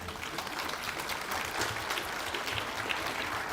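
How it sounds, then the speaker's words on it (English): An audience at a public physics lecture claps steadily, a moderately loud, even wash of applause heard on its own with no talking. "you shouldn't applaud"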